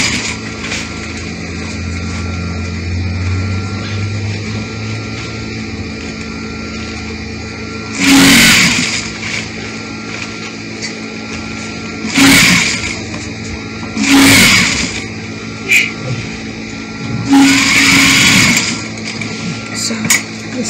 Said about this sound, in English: I'm sewing in between